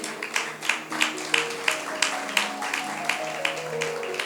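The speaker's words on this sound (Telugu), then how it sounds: "గట్టిగా చప్పట్లు కొడదామా ఈ మాటకి?" Clapping from a church congregation comes in regular, evenly spaced claps, roughly three per second, over a sustained musical tone of keyboard or organ-like chords.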